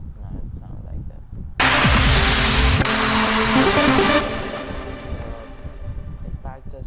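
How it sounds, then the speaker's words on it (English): Trance track in FL Studio where a sweep-up ends in a big impact: a sudden loud, wide crash hits partway through, sustains thickly for a couple of seconds, then decays back into the underlying music. "if you add an impact at the end,"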